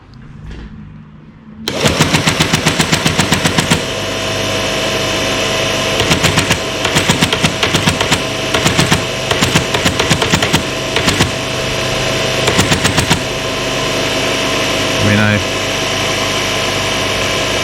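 An old teleprinter switches on and settles into a loud mechanical clatter, steady motor hum under rapid bursts of chattering, machine-gun-like hammering, close up and filling the room.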